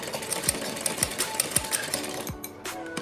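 A sewing machine stitches along a blouse back neck beside buckram, running in a steady, close, rapid mechanical rhythm that slows briefly near the end.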